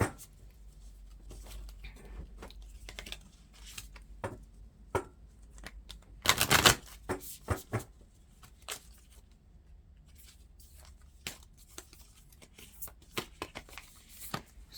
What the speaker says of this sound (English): Shuffle the Lover's deck a couple times.